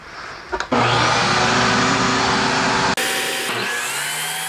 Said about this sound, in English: Now I'm going to cut 4 of these, 2 for the top, 2 for the lower section.